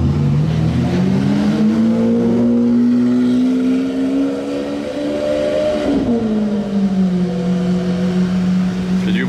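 Lamborghini Aventador V12 exhaust revving loud and close in race mode on a Monaco street, a sustained rising and falling engine note with harmonics that climbs, peaks, then drops and settles into a steady drone.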